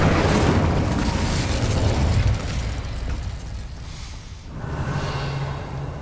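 Incendio fire spell cast in a video game, a loud, dense burst of roaring flame and rumbling booms that holds for a couple of seconds, then dips and swells again into a steady fiery wash.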